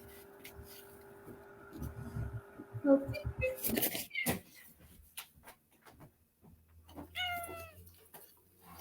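A house cat gives a short meow near the end, preceded by household noise and people talking in the room during an interview.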